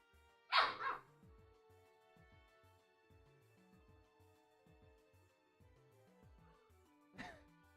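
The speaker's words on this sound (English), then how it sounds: "His barking sounds are just adorable." A dog gives a couple of short, sharp barks at the start and another brief one near the end, fairly faint, with quiet low thumping sounds in between and no talk over it.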